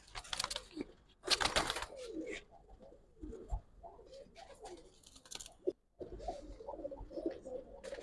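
Giribaz pigeons, a Bangladeshi flying breed, coo repeatedly in soft, throaty, rolling calls, close and quiet, broken by a few sharp rustles and clicks of handling.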